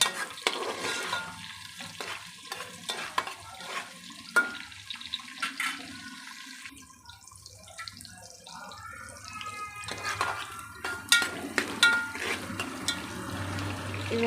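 Onions stirred and frying in a pan for biryani, with intermittent scraping strokes and a soft sizzle running under the strokes, and a brief quieter stretch near the middle.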